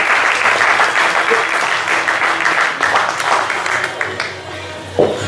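Loud, sustained audience applause at a motorsport team presentation, dense clapping filling the whole stretch with a brief sharp accent near the end.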